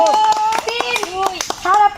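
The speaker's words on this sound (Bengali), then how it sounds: "বড় তালি হয়ে যাক মনোরমের জন্য" A round of clapping for a performer at a crowded outdoor folk game and song fair, sharp rhythmic claps that sit under a loud, close voice talking and calling throughout.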